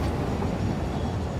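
A train in the video game Satisfactory rolls past with a steady, dense rumble, loud and continuous throughout with no distinct pauses.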